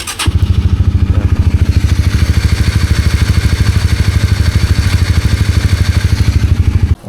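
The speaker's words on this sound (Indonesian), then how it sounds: "Untuk suara mesin masih enak ya." A motorcycle engine starts and then runs at a steady, fast idle, close and loud, its rapid even pulses throbbing throughout before cutting off at the end.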